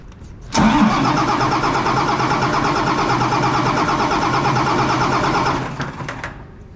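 A tractor engine with a fuel supply problem turns over and then runs loud and steady for several seconds before trailing off, close and unbroken by any voices.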